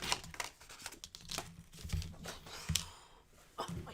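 Paper being cut and handled for a mini mirror craft, close crinkling, rustling and snipping in irregular bursts, fairly quiet and with no speech.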